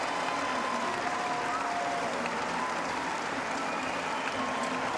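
Velodrome crowd at a UCI Track Champions League sprint final applauding the winner, a dense continuous wash of clapping held at an even, moderate level from start to finish.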